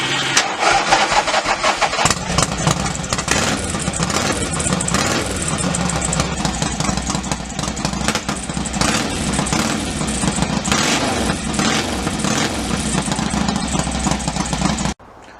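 A motorcycle engine is started and then runs steadily, loud and close, with a constant mid-range throb that holds alone for the whole stretch and cuts off at the end.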